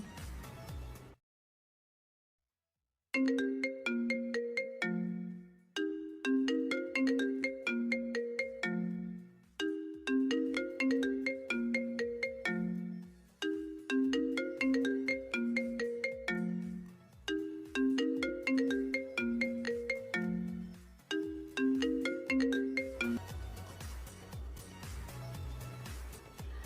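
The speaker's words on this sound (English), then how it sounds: "That sound is a telephone or phone ringtone." A telephone ringtone plays a repeating bright electronic melody in several bursts separated by short pauses, clear and steady, followed by a brief noisier tail at the end.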